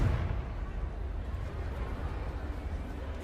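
A Confringo fire spell explodes in Hogwarts Legacy: a loud, low rumbling blast hits at once, then settles into a steady, dense roar for about three seconds.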